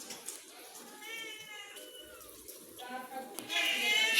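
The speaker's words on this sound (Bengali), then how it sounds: "কালকে রাতে এখানে বিড়ালে বাচ্চা দিছে" Thin, high mewing from newborn kittens born overnight under a staircase, in several short rising cries between pauses. Background noise runs underneath the cries.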